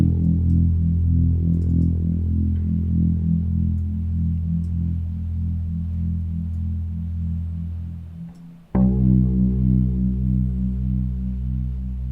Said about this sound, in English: So for this track, I use electric bass.